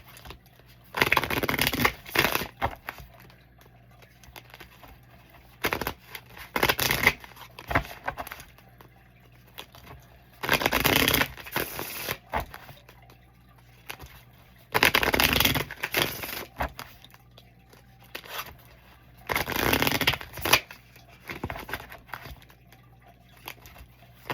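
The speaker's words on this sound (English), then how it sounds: "it was too big to shuffle and I want to break it in" A new oversized card deck being shuffled by hand, with repeated bursts of riffling and bridging that come in short clusters separated by brief quiet pauses, close and clear.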